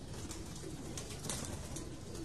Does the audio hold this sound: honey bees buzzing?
no